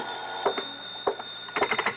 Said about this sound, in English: I just got back into my clothes when the phone rang.